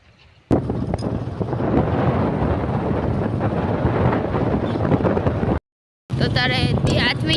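Strong wind blows outdoors under a clouding sky, a loud, steady rushing roar against the microphone that cuts out briefly near the end before resuming.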